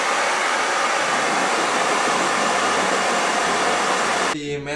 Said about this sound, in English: So I'm using my mom's blow dryer to dry all this off.